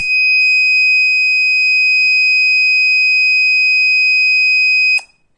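An Arduino fire-detector buzzer gives one loud, steady, high-pitched electronic tone for about five seconds, then cuts off sharply into near silence.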